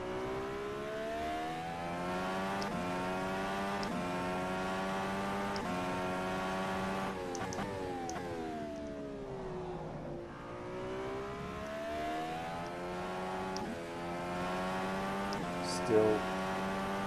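Dallara DW12 race car at NOLA accelerating through the gears, its engine note climbing steadily in pitch and dropping at each upshift. The engine is loud, close and continuous, with a brief dip midway and a short thump near the end.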